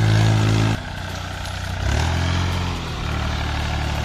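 An Abhiman mini tractor engine runs close by with a rotavator, loud at first, then dropping to a lower idle before its pitch rises and settles again, a continuous clattering drone with no talk.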